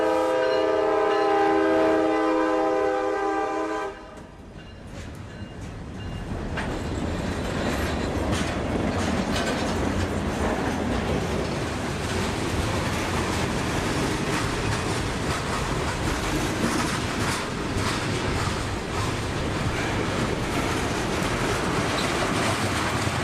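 A local freight train on the Tampa S-Line sounds a loud horn, then rolls past with a continuous heavy rumble and rhythmic clickety-clack of wagons over the rails, close and sustained.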